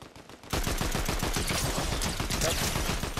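Rapid gunfire in the video game Fortnite, a sustained burst of sharp, evenly spaced shots that starts abruptly and keeps up steadily at close, loud range, with faint voices underneath.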